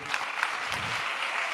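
Applause from a church congregation during a sermon, a brief, fairly faint, continuous patter of many hands with no voices over it.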